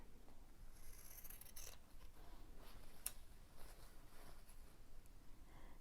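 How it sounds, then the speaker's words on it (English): Scissors cut through quilt fabric along a dashed line for a Dresden Plate block, giving faint, quiet snipping and rustling at close range with no talking. "Next step is simply to trim on the dashed line."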